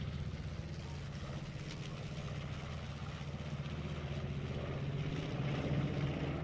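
A B-25 bomber roars past at the SUN 'n FUN 2021 airshow, its steady piston-propeller drone swelling gradually louder and holding at mid distance.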